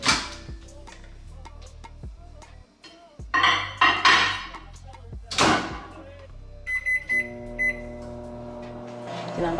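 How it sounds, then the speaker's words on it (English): A home kitchen microwave oven heating pepper jack cheese: door clunks and clatter, then the steady hum of the oven running and a short series of beeps near the end, all close up, with a voice talking at moments. "I'm literally about to pop that baby in the microwave"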